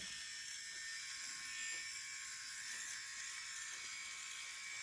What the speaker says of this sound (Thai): อันนี้แห้งๆก็โกนได้